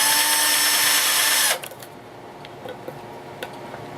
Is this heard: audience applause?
no